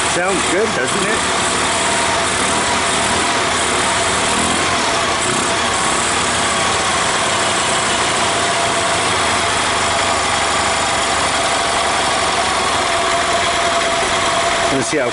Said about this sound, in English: Boy, that's a nice running little engine.